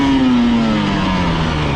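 A 2024 GasGas throttle-body-injected enduro motorcycle engine holds a loud, steady drone close by, its pitch sliding slowly downward as the revs ease off.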